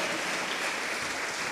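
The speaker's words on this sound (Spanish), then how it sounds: "Dale fuerte las palmas al Señor" A brief burst of clapping from a church congregation, a dense, even patter of many hands heard alone for a moment.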